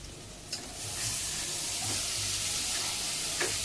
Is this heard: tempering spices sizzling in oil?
yes